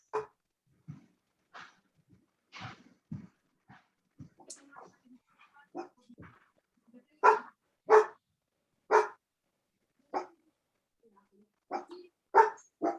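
A dog barks and whimpers indoors in scattered bursts, with several louder close barks later on, mixed with voices talking in between.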